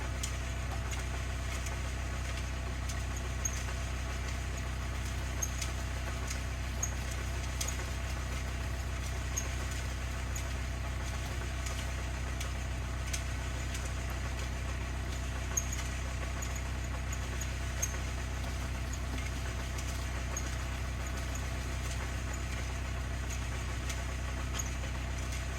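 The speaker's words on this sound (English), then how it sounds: "So we use the tractor to backfill around the 11 piers" A tractor engine idles steadily at a foundation site where piers are being backfilled, a constant low rumble with a faint even knock, close and unchanging for the whole stretch with no talk.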